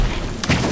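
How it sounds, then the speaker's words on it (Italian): A bomb goes off in the Fortnite video game as a short, heavy low boom with a second thud at the end, loud and close. "E mi ha tirato la bomba"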